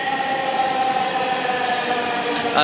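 A metro rail train runs with a steady, loud rumble and a sustained whine, continuous throughout, with a brief louder swell at the end.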